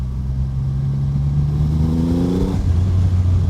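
A 2024 Triumph Rocket 3 GT Storm motorcycle rumbles at low revs while cruising in third gear below 2,000 RPM, a steady close engine drone with a brief rising surge partway through.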